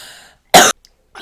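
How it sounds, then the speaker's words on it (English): A single hard, explosive cough bursts out close and loud, followed by a brief catch of breath and the start of another. "I just almost threw up from coughing so hard"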